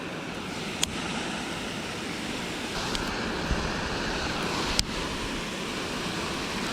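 Steady rushing roar of a waterfall at a bass fishing spot, broad and continuous, with a few sharp clicks cutting through the constant water noise and no talking.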